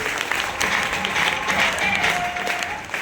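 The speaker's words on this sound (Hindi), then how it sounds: "एक बार उनके लिए भी जोरदार तालियां होंगी।" Strong applause fills a hall at a Hindi-speaking business event, many hands clapping in a continuous, even wash at close range, with a faint tonal whistle or voice rising briefly within the crowd noise.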